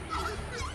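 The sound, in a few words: horned screamer call, like a braying donkey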